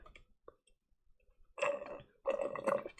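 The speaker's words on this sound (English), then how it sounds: "Yeah, that's just how it sounds like when I burp." Two short, close burps from a streamer, each a croaky voiced burst after a quiet pause with faint clicks.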